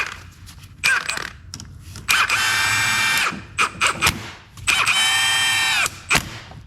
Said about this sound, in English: And now we're just gonna continue bolting everything up.